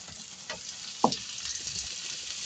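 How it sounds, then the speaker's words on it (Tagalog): Onions toasting in a pan outdoors for pakwan, a steady soft sizzle with a brief clink or stir near the one-second mark, fairly quiet throughout. "Atin munang i-toasted itong sibuyas."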